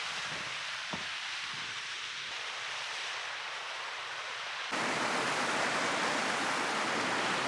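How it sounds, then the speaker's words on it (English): A waterfall rushes outdoors during a snowstorm as a steady, broad roar of falling water that surges noticeably louder partway through, with no voices over it. "I'm leaving the waterfall right over there"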